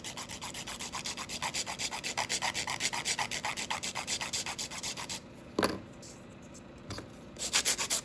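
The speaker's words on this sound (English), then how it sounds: "I like to use my hand file first so I can box it out real well." A hand file rasps back and forth on an acrylic nail in quick, steady strokes, close and up front. The strokes stop briefly near the end, followed by a single soft knock, and then resume.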